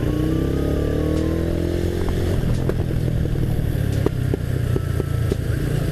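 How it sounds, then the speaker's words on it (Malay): A motorcycle with an anti-lag setup idles loudly up close, its engine running steadily while a series of sharp exhaust pops and crackles punctuate the second half. "So korang layan je lah anti-lag. Dia bunyi buruk sikit lah sebab buat kat motor ni kan."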